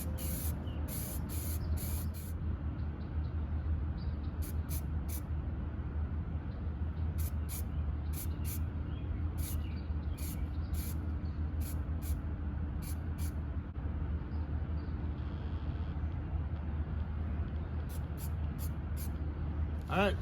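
A spray gun applies paint to a part before hydrographic dipping, giving a steady hiss that runs throughout, with short bright bursts of spray or air at irregular intervals.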